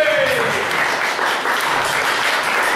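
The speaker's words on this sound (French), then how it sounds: "un tonnerre d'applaudissements" A studio audience at a live French show applauds loudly and continuously, a dense wash of clapping at close range with a brief voice at the start.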